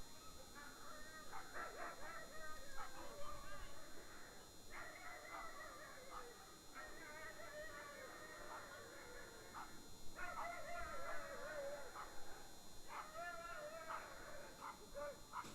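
Greyhounds in the starting boxes at a world championship race whine, whimper and yip in repeated short bursts, sounding faint and somewhat distant against a quiet background hum.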